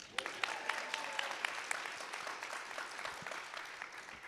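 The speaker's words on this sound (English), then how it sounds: "We can clap for Brian." An audience at a SXSW EDU panel claps together, a dense patter of many hands heard from mid-distance, sharp at first and then softening as it tapers off.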